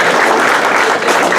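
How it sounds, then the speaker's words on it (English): Hearty applause for the committee at an EMS banquet, a packed room clapping loudly and evenly throughout the brief moment. "So big round of applause for our"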